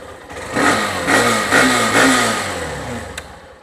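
A Hero Xtreme motorcycle with about a thousand kilometres on it, in stock condition, revs in a series of four rising throttle blips over a steady idle, close by and fairly loud, then settles back down.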